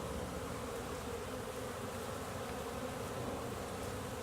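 Honeybees buzz steadily around a beehive in late March, a dense, continuous drone of many insects that holds at an even level throughout without talk.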